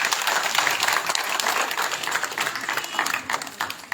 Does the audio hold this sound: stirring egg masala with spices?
no